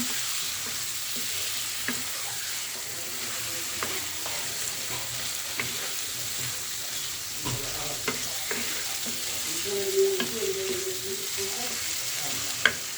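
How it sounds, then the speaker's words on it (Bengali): Bayra fish with eggplant frying in a pan, a continuous soft sizzle punctuated by occasional scrapes and clinks of stirring, fairly quiet and with no talk. "এখন মাছটা দিয়ে সুন্দর একটু কষাইয়া"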